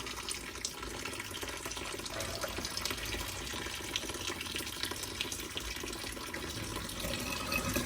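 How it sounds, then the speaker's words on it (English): Cleaning chemicals siphoning into a plate heat exchanger, a steady rushing, gurgling flow of liquid at a constant low level throughout. "it's actually siphoning chemicals in"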